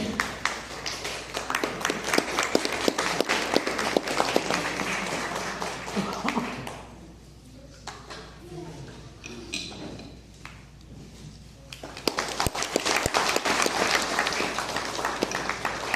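An outdoor crowd at a kayak cross race prize ceremony gives dense, sustained applause that fades into a quieter lull with distant chatter, then swells again into loud clapping.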